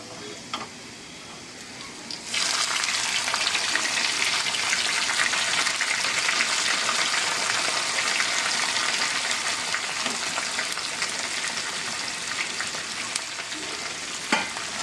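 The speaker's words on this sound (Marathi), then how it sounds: "आपण सगळे भाजी टाकूया एकत्र आणि भाजून घेऊया" Mixed vegetables with garlic hitting a hot pan for a paneer dish, a loud continuous sizzle that bursts in after a quieter start and holds steady up close, with occasional stirring scrapes.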